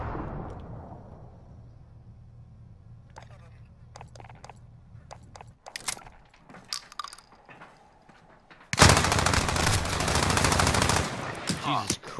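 Gunfire in Call of Duty Modern Warfare: a low mechanical drone, then scattered sharp shots, and from about nine seconds a loud, dense burst of sustained automatic fire.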